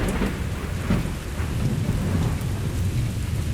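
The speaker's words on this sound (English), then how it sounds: "A heavy thunderstorm." Heavy thunderstorm with loud, dense rain pouring down and deep rolling thunder rumbling through, steady and close with no voices.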